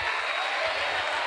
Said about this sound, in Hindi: So I want you all to cheer them with great applause. Okay, जोरदार तालियां